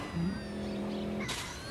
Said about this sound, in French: C'est vraiment pas la voiture la plus rapide du monde.